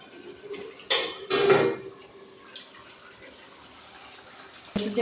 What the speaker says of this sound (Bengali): আসুন ঢাকনাটা খুলে দেখি